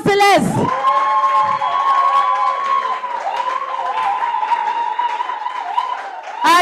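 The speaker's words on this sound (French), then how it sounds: "On applaudit le parent céleste." A lively audience at a spiritual gathering bursts into loud cheering, whoops and shouting, sustained for several seconds, with excited voices rising above the crowd.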